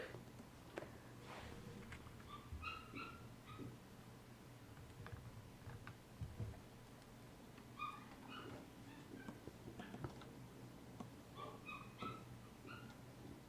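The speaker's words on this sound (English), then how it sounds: "you can probably hear my dog in the background." A pet dog whimpers and yips in the background of a quiet indoor room, several short high-pitched clusters of cries spread through the stretch, faint and distant.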